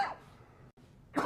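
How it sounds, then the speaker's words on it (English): A man who has just been out in falling snow and wind gives two close, short coughs, one at the start and one at the end, separated by a brief quiet gap. "You see I'm coughing."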